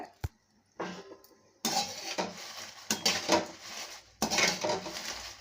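Dried chillies being dry roasted and stirred in a pan for homemade chilli powder, with scraping, rattling clatter of utensil against metal in several bursts, near and fairly loud, with no talk.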